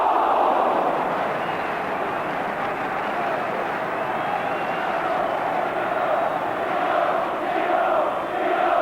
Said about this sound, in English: Crowd chanting there.